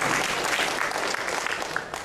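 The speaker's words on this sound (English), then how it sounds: "let's give a round of applause for our volunteer" An audience at a marketing presentation claps steadily, a dense patter of applause that holds at an even level throughout.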